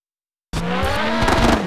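Race cars roar around the Bugatti Circuit in the Le Mans 24 Hours PS1 video game, with engine noise and tire squeal bursting in after a half-second of silence and holding loud and steady.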